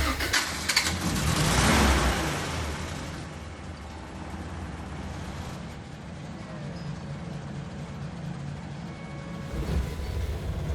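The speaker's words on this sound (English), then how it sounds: "it's very easy to turn on, and in my opinion, the car engine is still very smooth compared to the older car" A Land Rover Series 3 engine cranks and fires with a loud surge, then settles into a steady, rough idle rumble that continues for several seconds.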